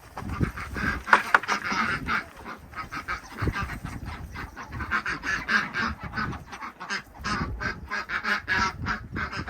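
A flock of chickens at snack time chatters and clucks continuously, a busy, overlapping babble of calls close by.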